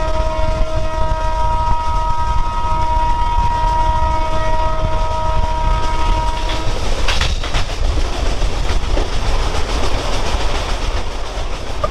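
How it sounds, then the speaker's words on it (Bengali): An express train of 24 coaches with a locomotive runs through the countryside, heard from on board as a loud, steady rumble and rattle, with a horn sounding for several seconds before fading. "আমাদের এই এক্সপ্রেস ট্রেনটাই হচ্ছে টোটাল 24টা কোচ আছে, মানে লোকোমোটিভ ইঞ্জিন সহ।"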